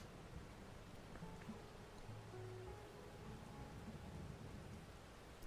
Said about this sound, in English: I like the thunder and rain in game.